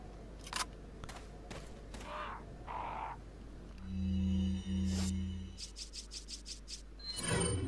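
Crows caw in the Resident Evil 4 video game, a run of sharp, harsh calls spaced irregularly near the microphone, with a sustained low buzzing tone in the middle and a burst of rapid clicks toward the end.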